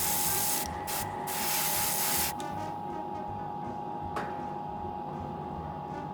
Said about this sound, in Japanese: 本体色の紺色部分は GSI クレオスのネイビーブルーで塗装していきます。